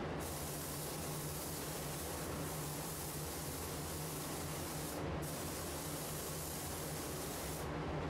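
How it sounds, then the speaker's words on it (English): Continuous hissing spray from a paint gun spraying waterborne base coat or ceramic clear coat onto a panel, nearly unbroken, with two very brief pauses, close and steady. "once I get all the edges, then I will start spraying the panel"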